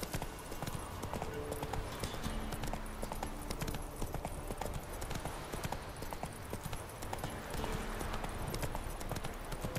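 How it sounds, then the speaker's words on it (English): A horse gallops in The Witcher 3, steady quick hoofbeats pounding in a continuous rhythm, loud and close, with a faint whinny and light talk underneath. "it's not realistic to actually push your horse that hard"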